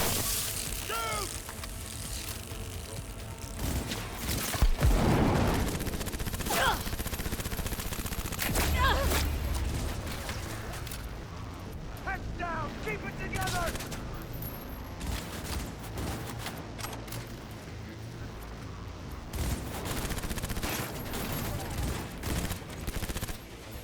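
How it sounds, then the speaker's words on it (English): Sustained gunfire in the video game Cyberpunk 2077 rattles on for the full stretch, with dense automatic bursts and scattered single shots, close and loud, mixed with game voices and clattering effects. "Shoot!"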